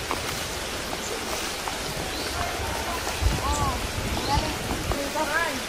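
Steady outdoor rain falls in Cebu, a continuous hiss of drops on surfaces with occasional faint voices and movement mixed in underneath.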